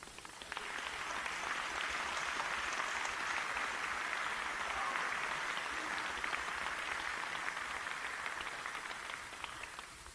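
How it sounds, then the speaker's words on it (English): A room full of people at a corporate event applauds, a dense, steady wash of clapping that swells quickly and holds evenly for several seconds without talk. "they need and should get an applause"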